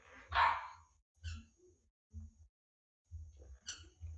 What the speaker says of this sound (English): And my apologies for my dog.